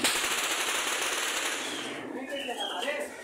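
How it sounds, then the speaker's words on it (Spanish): Rapid, continuous bursts of gunfire fill the clip, a dense crackling rattle that stays loud throughout, with faint Spanish-speaking voices mixed in, amid violence in Chiapas. "porque aquí están pegando los tiros."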